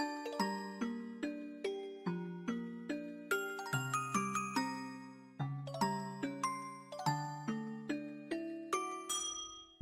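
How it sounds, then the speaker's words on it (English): Doorbell chime in the video game Trails in the Sky the 3rd, a bright sequence of ringing bell-like notes struck in steady succession, clear and alone. "Ding dong."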